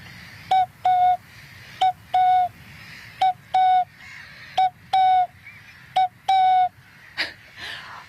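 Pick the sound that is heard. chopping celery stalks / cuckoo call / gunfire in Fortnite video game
cuckoo call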